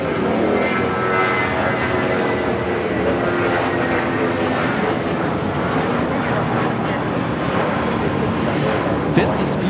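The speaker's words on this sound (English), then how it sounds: "513 taking off to Guadalajara on the A320." A Viva Aerobus Airbus A320 takes off from LAX bound for Guadalajara, its loud, sustained jet roar filling the whole stretch with a dense rumble and a faint whine, close by and unbroken, with people talking under it.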